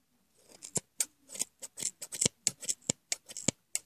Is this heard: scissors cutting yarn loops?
yes